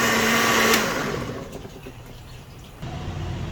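A blender grinding carrots, apple and other vegetables and fruit for a shake, a loud whirring motor surge at the start that settles into a steadier, softer churn before rising again.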